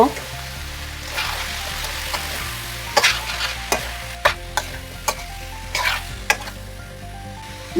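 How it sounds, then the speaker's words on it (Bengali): Bottle gourd and prawns sizzle in a pan as turmeric, coriander and cumin powders are stirred in, with a steady frying hiss broken by sharp, close spatula scrapes at an uneven rhythm. "হলুদ গুঁড়ো ধনে গুঁড়ো জিরে গুঁড়ো সমস্তটা খুব ভালো করে নাড়িয়ে দেব"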